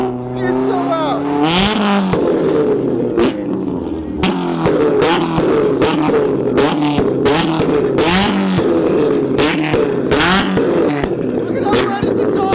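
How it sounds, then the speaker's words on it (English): A Lamborghini revs hard again and again at a rowdy car meet, its very loud engine and exhaust rising and falling in repeated bursts, with people talking and shouting over it. "Take back everything I said about that car. Take it all back. It's so loud."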